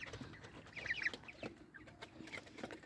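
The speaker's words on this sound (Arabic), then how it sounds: "الفراخ بتاعتنا" Backyard chickens clucking at a farm coop during feeding and watering, a few soft close calls scattered over steady low barnyard background.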